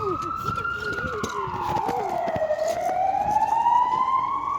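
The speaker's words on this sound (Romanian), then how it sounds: "Aia e salvarea, bă!" An ambulance siren wails past on a street, its rising and falling tone swelling loud and close while people talk and shout nearby.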